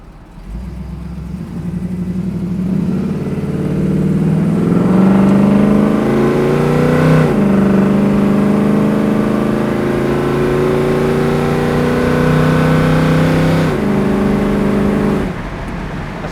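A 1968 Chevrolet Camaro SS with a big-block V8 drives on the road, its engine climbing in pitch through the gears with clean shifts in between, a loud, steady drone close by and alone.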